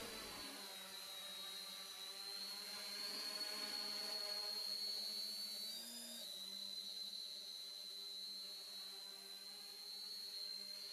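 Small 3D printed multi-rotor drone carrying a camera underneath on a test flight: a steady, high-pitched whine of spinning rotors that wavers slightly in pitch, moderately close and alone.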